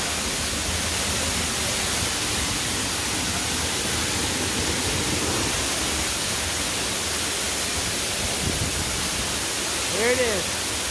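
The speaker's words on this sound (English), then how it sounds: "Big old waterfall." Waterfall on the Lost Valley trail in Arkansas, a steady broadband rushing roar throughout, with brief voices and a short whistle-like call near the end.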